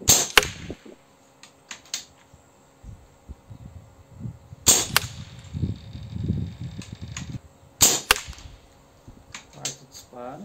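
Air rifle with a 600 mm Fiora barrel firing 18-grain slugs into a target block, three sharp cracks spaced a few seconds apart, each with a quick thud, with faint handling noise and murmur between.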